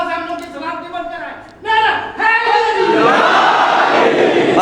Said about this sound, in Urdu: دونوں ہاتھوں کو بلند کر کے نعرہ لگا تاکہ آنے والا شیطان بھاگ جائے